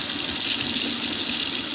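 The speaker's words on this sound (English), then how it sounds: "I just thought I could just get some water in here" Water runs steadily into an LG A9 cordless vacuum, a constant close, bright hiss and splash like a tap filling a container, with no voices over it.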